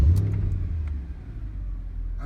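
Mercedes-Benz E63 AMG W211 engine firing up with a loud, deep low rumble and brief rev at the start, then settling into a steady, throaty idle close by.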